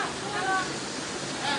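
Flood water pours down from higher ground through a residential lane in Quezon City during Super Typhoon Carina, making a steady, close rushing hiss like a torrent, with a person talking over it.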